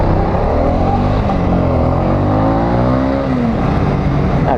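A Honda CB300R motorcycle engine revs steadily and loudly up and down through the gears, a continuous close droning roar with rising and falling pitch, no voices.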